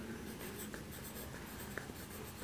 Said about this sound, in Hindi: जैसे मैं यहाँ लिख देता हूँ मिशा ब्रोक